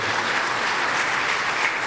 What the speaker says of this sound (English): Let's honor Jack now with a round of applause.